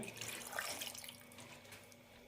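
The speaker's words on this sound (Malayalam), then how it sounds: "ഇതിലേക്കൊരു കാൽ കപ്പ് വെള്ളം ഒഴിക്കാം" A short, quiet splash and trickle of a quarter cup of water being poured into a pot of chicken curry, soft and brief.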